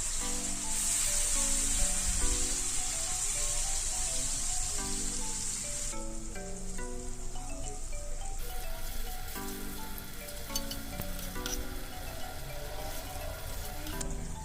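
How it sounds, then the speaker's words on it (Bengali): Paneer pieces dropped all at once into hot oil in a wok give a continuous hissing sizzle, largely buried under background music playing throughout. "তেল গরম হয়ে যাওয়ার পর আমি পনিরগুলো সব একেবারেই দিয়ে দিচ্ছি।"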